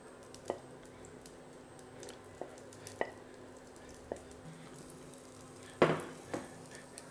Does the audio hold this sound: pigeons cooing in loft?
no